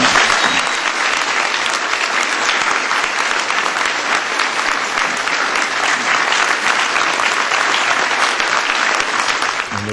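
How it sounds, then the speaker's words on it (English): Loud, continuous applause fills a room during a political speech, a thick sustained roar of clapping from a large audience with faint crowd voices beneath it. "A lot of applause and emotion there at today's speech."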